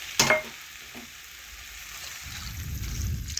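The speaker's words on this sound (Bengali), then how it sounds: "এই দেখুন এইভাবে ভেজে নিয়ে এখন আমি পরিমাণ মতো জল দিয়ে দেবো" Potato and broccoli fry and sizzle in a pan, a steady close hiss with a brief clatter near the start and a louder bubbling rush toward the end, with no one speaking.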